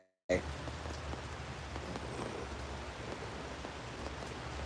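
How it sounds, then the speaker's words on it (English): Steady rain falls after a brief silent start, a dense even patter on surfaces that continues unbroken throughout. "Yeah, rain all day."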